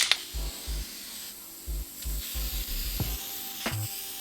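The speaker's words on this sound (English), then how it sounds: "I found I had a rattle can of this Minwax urethane, so we're just gonna spray that with this" Minwax urethane sprayed from a rattle can onto a wooden fishing rod storage rack, heard as several short hissing bursts with small gaps between them, fairly close and moderately loud, with no talking.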